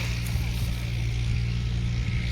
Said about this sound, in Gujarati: બાઇક ચાલુ કરી લીધું